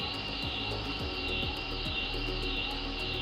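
A CNC lathe turning a one-inch shaft with spindle speed variation on: a constant loud machining drone with a high whine that rises and falls in a regular cycle, plus periodic pulsing underneath.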